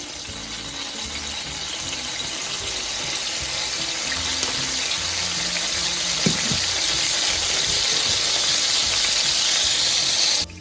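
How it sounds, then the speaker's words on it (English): Worcestershire sauce hits a hot pan while fast-food-style smash burgers are being prepared, giving a steady, loud sizzle that holds evenly for several seconds with no one talking. "one more thing we want to add before we start cooking these burgers is a little bit of this Worcestershire sauce"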